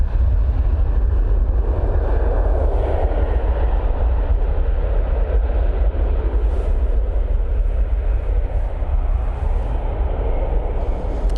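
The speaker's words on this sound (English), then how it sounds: "let's go on to this Ryanair now departing" A Ryanair airliner departs Manchester Airport, its engines giving a loud, steady, broadband roar that holds throughout with no voices over it.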